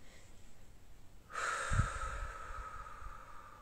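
A single slow, airy exhale through the nose, close and soft, rising and then trailing off over a couple of seconds during a calm Jin Shin Jutsu breathing exercise, with no talk.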